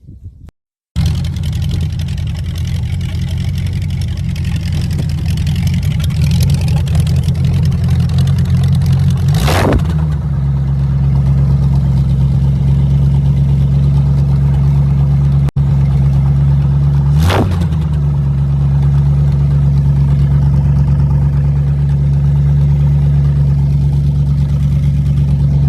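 A hot rod engine idles steadily and close up with the choke off, a deep even rumble that holds for about twenty-five seconds, with two brief sharp spikes breaking through partway.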